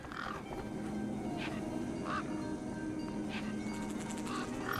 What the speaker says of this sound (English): Those birds weren't going to let me anywhere near the back of the truck.